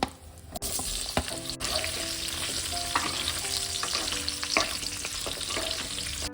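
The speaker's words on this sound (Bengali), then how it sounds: "আলুগুলোকে ভেজে নেব" Potatoes fry in hot oil with a loud, continuous sizzle, joined by occasional clacks of a spatula stirring in the pan.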